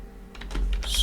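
Java code typed on a computer keyboard, a short quick burst of close key clicks building in a rapid uneven rhythm.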